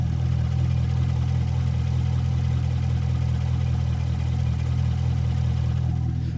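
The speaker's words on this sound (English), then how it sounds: "that ticking is completely normal for this engine" A Corvette C7 Z51 engine idles steadily with a low rumble, a faint rapid injector ticking running through it, no talking.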